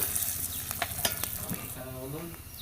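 Urad dal sizzling and frying in hot oil in a pan, stirred with a utensil that gives a few scraping clinks over a steady close hiss.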